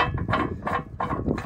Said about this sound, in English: gotta go ahead and take a pair of pliers, break it loose